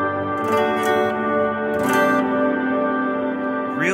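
Guitar played through a Joyo Space Verb pedal on its hall setting with decay and mix fully up gives sustained chords that smear into a thick, washy reverb tail, with a few brief attacks blooming over a steady ringing drone.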